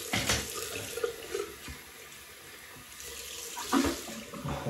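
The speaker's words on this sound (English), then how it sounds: "so cold water rinse." Cold water runs from a tap to rinse a Wilkinson Sword Extreme 3 disposable razor, a steady close splashing stream with brief louder surges of water hitting the sink.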